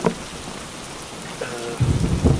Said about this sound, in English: We wake up in freaking rain, thunderstorm, wind.